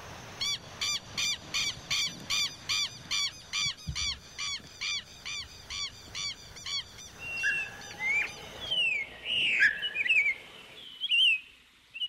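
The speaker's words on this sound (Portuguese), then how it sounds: "gravar o som mais lindo que existe, que é o som das aves brasileiras" Brazilian birds call outdoors: a steady series of repeated honking, squeaky notes, then varied chirps and whistles from other birds overlapping near the end.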